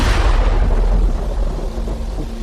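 Thunder accompanying a spooky horror story, a deep, loud, continuous rumble rolling steadily and slowly easing off, with no voices over it.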